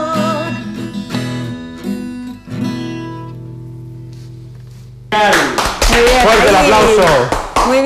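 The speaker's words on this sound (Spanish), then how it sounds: "Fuerte el aplauso." An audience applauds loudly after a televised musical performance, a dense clatter of many hands breaking in abruptly after sustained sung and instrumental notes fade.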